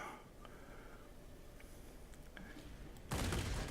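Aircraft cannon fire from an IL-8 plane in the video game World of Warplanes: a loud rapid burst bursts in near the end after faint background engine and ambience.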